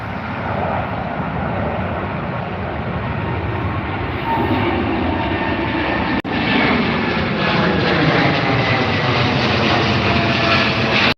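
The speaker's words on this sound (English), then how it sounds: "Another Dreamliner, folks." Boeing Dreamliner airliner at Heathrow airport, a continuous broad jet roar that stays loud and fairly close throughout, swelling slightly partway through with no talk over it.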